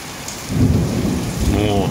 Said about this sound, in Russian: Сейчас будет гром.